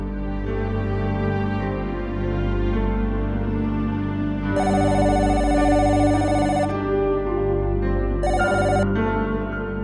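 A telephone rings in a home while someone calls a friend's house, its repeated electronic bursts steady and clear, broken by short pauses between rings, with no talking.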